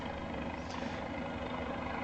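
Cabri G2 helicopter in flight within Microsoft Flight Simulator over Vancouver, a steady dense rotor and engine drone that holds close and even throughout with no voices.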